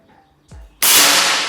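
A faint mechanical click and thump, then one sudden loud FX Impact M4 air rifle shot with a bright hissing blast that slowly tails off.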